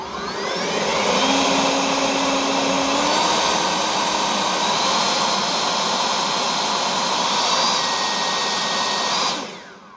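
A Mellif 40V cordless leaf blower runs at full power, giving a loud, steady rushing whoosh with a high motor whine that holds for several seconds before cutting off near the end.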